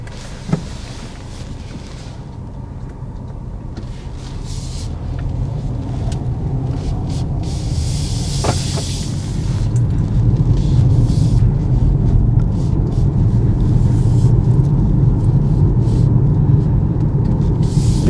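2018 BMW X2 driving on the road, heard from inside the cabin as a steady low road and engine rumble that gradually builds louder as the car gains speed, with a few faint clicks early on.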